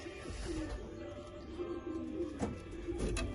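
Pigeons coo in low, throaty, repeated rolls close by, a steady murmuring with a few sharper sounds near the end.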